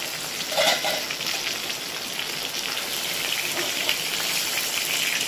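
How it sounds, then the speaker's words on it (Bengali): Pieces of katla fish fry in hot oil with a dense, continuous sizzling hiss that stays loud and even throughout, with no talking over it. "এদিকে আমার মাছ ভাজাগুলো হয়ে গেছে, তুলে নিই"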